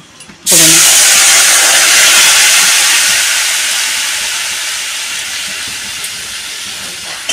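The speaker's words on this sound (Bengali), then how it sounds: "আমি একটা বড় দেখে টমেটো গ্রেট করে নিয়েছি, এটা দিয়ে দিচ্ছি।" Grated tomato dropped into a hot pan with cumin and a dried chilli for a Bengali rui fish and raw mango curry, a sudden loud, close sizzle that hisses steadily and slowly softens.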